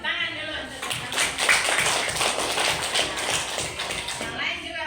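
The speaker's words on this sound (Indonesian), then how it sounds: "tepuk tangan dulu untuk teman-teman" A classroom of students gives a round of applause, with dense, continuous clapping over several seconds and some voices mixed in.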